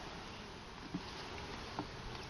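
Honey bees at an open hive during an apiary check: a faint, steady, even buzz close by, with a couple of small knocks and no talking.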